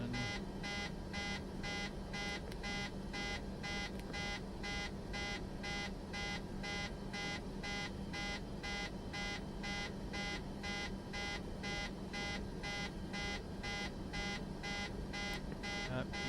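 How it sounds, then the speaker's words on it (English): A Boeing 737 cockpit warning in Microsoft Flight Simulator 2024 beeps in a fast, unbroken rhythmic series of regular electronic tones, repeating steadily throughout at moderate level with no one speaking. "beeping is going to drive me crazy though"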